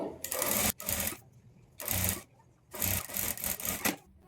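A sewing machine stitches a sleeve lining in three bursts of steady, close mechanical whirring, separated by short quiet pauses.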